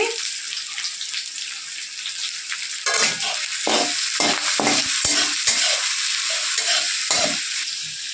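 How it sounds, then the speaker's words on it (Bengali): Chopped onions fry in oil in a pan with sugar, bay leaves and cardamom, giving a loud, steady hiss with bursts of crackling and occasional scraping stirs. "প্রথমে পেঁয়াজটা লাল লাল করে ভেজে নেব"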